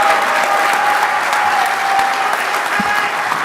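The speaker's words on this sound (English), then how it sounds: "huge round of applause for Tater, a.k.a. Michael Sontag, your 2023 two-wheel drive world champ" Steady, dense applause from an awards banquet crowd at a 1/10 scale RC car world championship, honouring the 2023 two-wheel drive world champion, a continuous wash of clapping throughout without pause.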